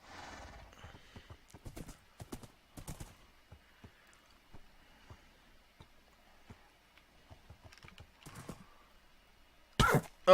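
Horse hooves clip-clop in the Minecraft video game in a steady, quiet rhythm for about ten seconds, with a few brief pauses and a louder burst right at the end.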